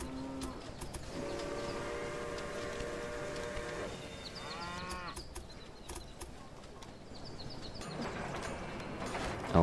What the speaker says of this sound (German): dann lassen wir jetzt noch einen zweiten Zug fahren. Eine Rogers.